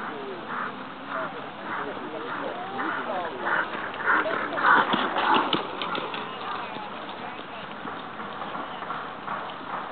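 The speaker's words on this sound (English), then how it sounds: "Canter, please. All canter." Several horses canter around an arena at a pleasure horse championship, their hooves making a steady rhythmic clip-clop of moderate loudness, with voices talking in the background.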